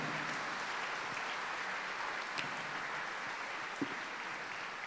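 A church congregation at a charismatic renewal congress gives applause to the hearts of Jesus and Mary, a steady, fairly faint wash of clapping that holds evenly throughout with a couple of sharper claps standing out.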